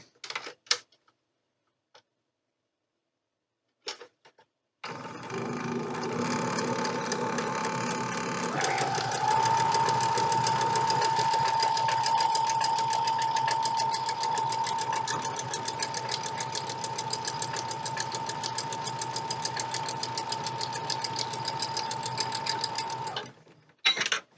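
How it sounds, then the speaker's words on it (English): A sewing machine stitching quilt block seams runs steadily for nearly twenty seconds after a few brief clicks, with a constant rapid whirring hum and fine mechanical ticking, close and alone. "sew these up together, making sure that our seams are nice and nested up"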